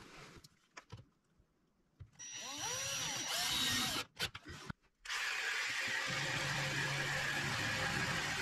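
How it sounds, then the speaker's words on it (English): A power drill drives a screw through the end of a wooden rail on a rotating bandsaw base, whirring in close bursts that rise in pitch, with short pauses between runs. "So I'm going to have to put a screw through the end of the rail."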